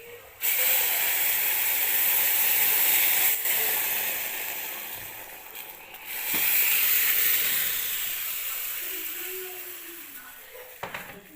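Asafoetida tempering sizzles in hot oil for a South Indian drumstick-leaf saaru, a steady broad hiss that dips briefly around the middle and then swells again before fading.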